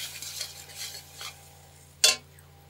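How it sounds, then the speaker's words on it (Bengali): Chili powder being stir-fried in a pan, a few soft scraping stirs with a low sizzle, then a single sharp spoon clank against the pan near the end. "লঙ্কা গুঁড়ি দিয়ে ভালো করে যে কষছি"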